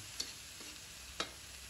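Noodles frying in oil over medium-high heat for mi goreng, a faint steady sizzle broken by two sharp clinks of a utensil stirring against the pan, close and quiet with no talk.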